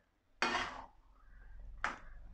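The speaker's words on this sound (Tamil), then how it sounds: "முந்திரி பயிர் போட்டு லைட்டாக ஒரு கிண்டு கிண்டுறோம்." Cashews fried in ghee get stirred in a pan with a spoon, two brief scraping clatters separated by a quieter stretch of low sizzle, close and fairly faint.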